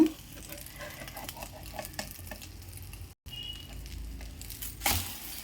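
A two-egg omelette sizzles and crackles softly in a pan as it is turned over, with light scraping and tapping from the spatula and a brief louder hiss near the end.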